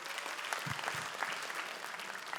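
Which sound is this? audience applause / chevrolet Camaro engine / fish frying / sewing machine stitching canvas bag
audience applause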